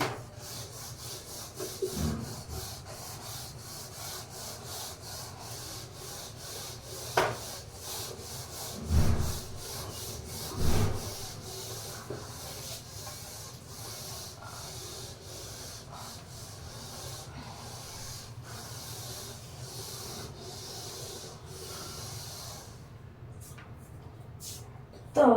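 Chalk or marker writing is rubbed off a board during a maths lecture, a steady scratchy scrubbing that runs for about twenty-five seconds with a few louder knocks along the way, close and moderately loud.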